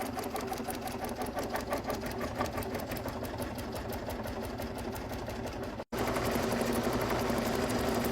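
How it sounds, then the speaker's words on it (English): An embroidery sewing machine quilts faux leather for an in-the-hoop Christmas zipper stocking, running as a loud, steady, rapid needle chatter that stops for a moment near the end and then resumes. "It's now doing the quilting on the faux leather."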